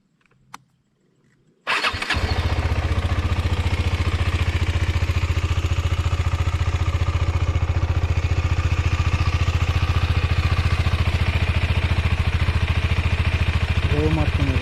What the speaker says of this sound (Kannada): ಬೈಕ್ದು ಸೌಂಡ್ ಕೇಳಿಸ್ಕೊಳ್ಳಿ